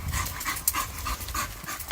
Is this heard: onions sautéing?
no